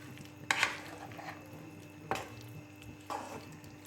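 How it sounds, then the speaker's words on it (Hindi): A spoon stirs chicken karahi with black pepper in a pan, giving three distinct scraping clinks spaced about a second or more apart over a faint steady kitchen hum. "ये जो काली मिर्च हमने लास्ट में ऐड की थी, इसको अच्छी तरह मिक्स कर लेते हैं"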